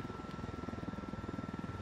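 In Ghost Recon Wildlands, faint, rhythmic thudding of helicopter rotors with a low engine drone, steady throughout and sounding distant.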